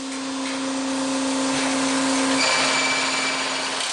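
A mining drill rig bores a hole through a protective screen underground, a loud steady mechanical whine and roar with a sustained tonal hum that shifts pitch partway through, with no voices.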